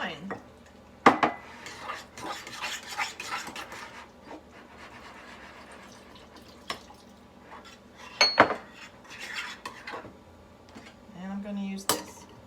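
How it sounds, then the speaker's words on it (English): A spoon scrapes and knocks against a bowl while wine is stirred into a mixture of cream of mushroom, cream cheese and ranch seasoning, in irregular clinks and scrapes with quiet gaps between. "Now I'm going to stir in the wine."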